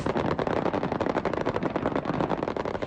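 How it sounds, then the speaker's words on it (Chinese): Canned gunfire effects play at the Han Kuang military exercise, giving a dense, continuous crackle of rapid shots that stays fairly faint and even for about three seconds, with no talking. "罐头音效代替枪声"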